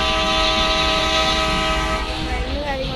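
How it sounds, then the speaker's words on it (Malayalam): A train in a video game starting up, a sustained loud tonal hum with layered harmonic lines and a rumbling low end, pitch shifting slightly near the end. "നമ്മളിതാ ട്രെയിൻ സ്റ്റാർട്ടാക്കാൻ പോകുകയാണ്."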